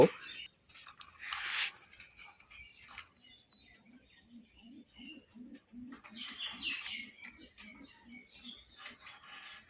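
Caged pigeons coo in a soft, steady rhythmic series close by at feeding time, with occasional chirps and light rustling and fluttering around them.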